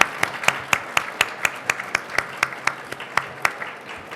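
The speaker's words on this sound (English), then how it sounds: "Let's give them all a round of applause, please." A small seminar audience claps in a sparse, rhythmic pattern, each clap distinct and fairly close, sustained evenly for a few seconds.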